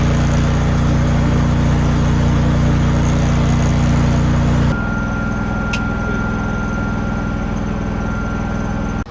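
John Deere combine engine running after cranking in a West Texas wheat field, a loud, steady heavy-engine drone that suddenly drops to a lower, rougher idle partway through, with a high whine over it.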